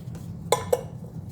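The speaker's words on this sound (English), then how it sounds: "Sorry, I'm just dropping everything." Two sharp clinks of small items knocking against dishes while homemade dog food is put together with supplements, sweet peas and green beans, close and brief against a quiet kitchen background.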